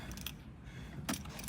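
Car keys jangle faintly as they go into the ignition of a Jaguar XK8, giving a few soft metallic clinks over quiet background with no talking.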